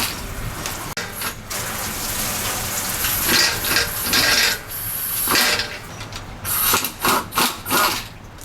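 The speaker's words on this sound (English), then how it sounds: "Removing the bolts and draining the transmission pan." Bolts being removed from the transmission pan of a 2025 Cadillac Escalade, with close, repeated rasping ratchet strokes and metallic scraping in bursts, growing busier toward the end.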